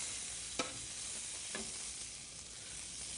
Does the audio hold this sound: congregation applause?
no